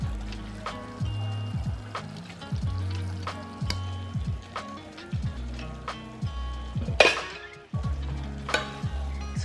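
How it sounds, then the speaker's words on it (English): A pan of pasta sauce made with garlic butter, wine, spinach, mushrooms and sundried tomatoes is stirred and twirled as lemon juice and zest go in, giving a close, continuous sizzle with scraping, under a rhythmic low backing. "Stir that around, give it a nice twirl"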